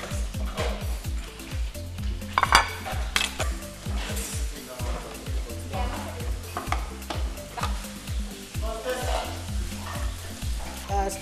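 Vegetables stir-fried in a hot pan, constant sizzling with rhythmic scraping and tossing strokes and occasional utensil clinks, close and fairly loud, with faint talk in the background.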